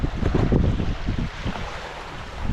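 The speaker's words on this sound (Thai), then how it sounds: "ลมแรงครับดูลมครับผม ลมแรงมากเลยครับผม" Strong wind roars across a microphone at a riverside fishing spot, a loud, close, continuous rush with gusty swells and low rumble, with no speech.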